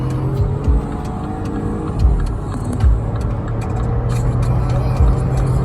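Loaded 136-horsepower car pulls away in sport mode, its engine droning steadily from inside the cabin while occasional gear changes and road bumps punctuate the hum; passengers talk over it.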